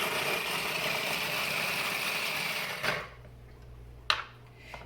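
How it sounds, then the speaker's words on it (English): Food processor grinding fresh turmeric root, a loud steady whirring motor drone for about three seconds, then it cuts off, leaving a low hum and a single sharp clunk. "we're just going to throw a bunch in a food processor"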